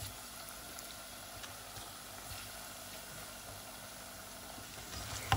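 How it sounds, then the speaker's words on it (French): Pieces of precooked potato fry in hot oil, giving a steady, faint sizzle that holds evenly from start to finish. "une fois que l'huile est chaude, je viens plonger donc les morceaux de pommes de terre"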